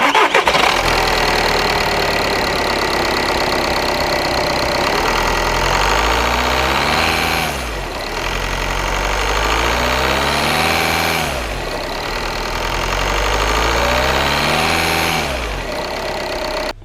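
A 2013 VW Golf TDI diesel engine with the stock air intake, running close by with a steady clattering idle that swells in a couple of slow revs and settles back down.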